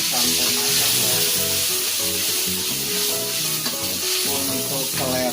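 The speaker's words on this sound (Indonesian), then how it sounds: "Karena minyaknya sudah panas, sekarang kita kasih bumbu. Ini bumbunya harus ditumis sampai matang ya." Spice paste for seblak fries in hot oil with a loud, continuous sizzle and hiss, close by, while it is stirred. No one speaks.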